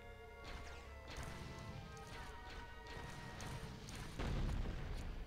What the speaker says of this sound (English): Oh, I just blew something up.